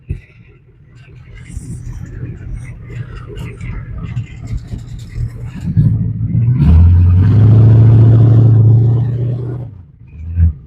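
1984 Ford Econoline van with a 6.9L diesel, one tire stuck, idles under nearby talk, then the engine swells into a loud, heavy low rumble as it strains to back up before easing off.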